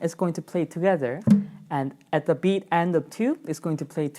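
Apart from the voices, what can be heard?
None of the usual background noises is heard.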